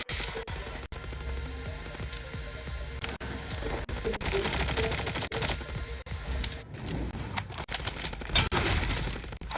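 Dense gunfire in the Call of Duty Mobile battle royale rattles almost nonstop, overlapping bursts and single shots layered with game effects, loud and busy throughout with no voices on top.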